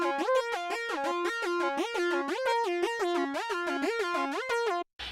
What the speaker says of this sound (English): This particular sound is called Similar Lead. It sounds like this.